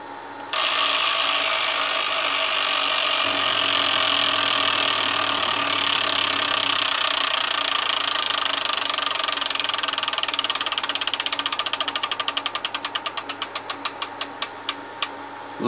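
A plastic wheel spins in a Wheel of Fortune Deluxe Edition electronic tabletop game, a continuous mechanical whir that turns into a rapid run of ticks as the pointer clicks past pegs, slowing and spacing out before it stops.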